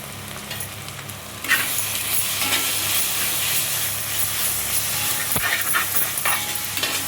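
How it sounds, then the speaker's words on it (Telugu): Ginger-garlic paste and turmeric roasting in a pan for an egg omelette curry, a steady broadband sizzle with occasional stirring scrapes, loud and close, no voices. "దీంట్లో మనము అల్లం వెల్లిగడ్డ పేస్టు, పసుపు ఇవి వేసి పచ్చివాసన పోయేంత వరకు రోస్ట్ చేసుకోవాలి"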